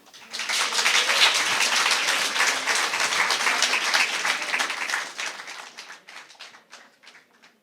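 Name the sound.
audience applause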